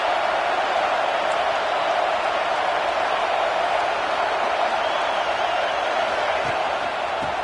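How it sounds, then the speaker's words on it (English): Stadium crowd roar from the College Football 26 video game at an LSU versus Texas A&M matchup, a steady, dense wash of distant voices that holds evenly throughout with no distinct cheers or spoken words. "This crowd ready to make its presence known"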